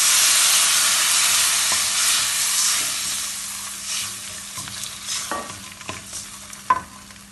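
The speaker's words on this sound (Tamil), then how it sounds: "இந்த நேரத்தில் நான் இப்போ இந்த கரைச்சி வச்சு புளியை விடுறேன்." Tamarind water poured into a hot pan for puliyodharai sizzles and steams loudly at first, then settles into a quieter crackle broken by sharp pops and stirring clatters.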